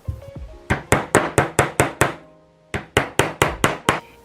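A hammer taps small nails to fix a sawtooth picture hanger to the back of a homemade night light: two quick bursts of six to seven sharp, evenly spaced close blows separated by a brief pause.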